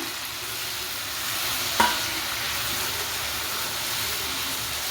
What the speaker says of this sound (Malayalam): അതിനുശേഷം നമുക്ക് നമ്മുടെ മഷ്റൂം ഇട്ട് കൊടുക്കാം